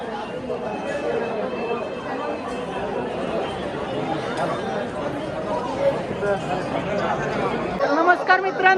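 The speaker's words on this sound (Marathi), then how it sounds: "मंदिरामध्ये त्यानंतर प्रसादाला भरपूर अशी भाविकांची गर्दी झालेली दिसते आपल्याला." A dense crowd of devotees chatters at a temple prasad meal, a steady indoor babble of many overlapping voices close by and all around, with a few louder voices near the end.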